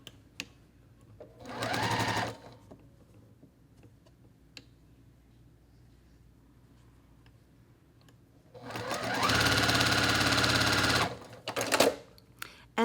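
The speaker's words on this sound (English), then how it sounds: "I'm going to go back over this previous seam just to keep the chain together." A sewing machine stitches a quilt block seam in bright fabric, running in a short burst and then a longer steady whirr, with quiet ticks and small handling noises in the pauses between.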